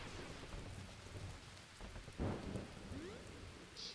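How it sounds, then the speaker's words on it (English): Rain and thunder on Soggy Island in The Touryst video game: a steady, dense hiss of rainfall throughout, with a single low thunder rumble swelling near the middle, and no voices. "It's so rainy."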